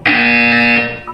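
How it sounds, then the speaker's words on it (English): Loud harsh electronic buzzer in a video game, one sustained blaring tone lasting about a second before cutting off, with a brief higher blip at the end. "When you hear the buzzer, look down at the floor."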